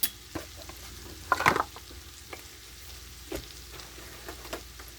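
Anchovies and tubed tomato paste cook down into a puttanesca sauce, giving a soft, steady sizzle with occasional spoon taps and small stirring clicks, faint and close with no talking.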